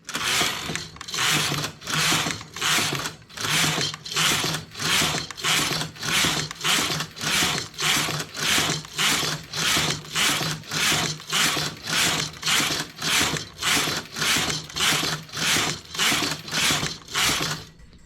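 A hand-operated knitting machine knits rows of wool squares, its carriage sliding back and forth in a steady, even rhythm of about twenty ratcheting, whooshing passes, close and uninterrupted with no voices.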